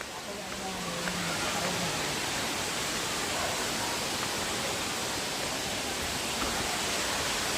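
A waterfall roars in a steady, dense rush of broadband noise that holds loud and unbroken from start to finish, with no clear voices above it.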